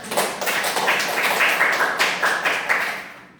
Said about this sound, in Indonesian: Kita berikan aplaus untuk mereka